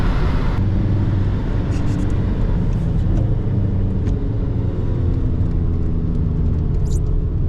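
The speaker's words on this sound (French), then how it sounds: "Comme vous l'entendez, il y a pas mal de bruit d'air par contre dans cette voiture." Steady broadband wind and road roar inside a moving SEAT Ibiza Cupra TDI at speed on fast roads, a constant loud rush with low rumble throughout, no pauses.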